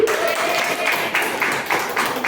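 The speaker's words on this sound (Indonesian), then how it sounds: "Tepuk tangan untuk BBI dulu." A church congregation at a Sunday worship service applauds in a short burst of mixed clapping, with a held tone and some voices blending in at moderate loudness.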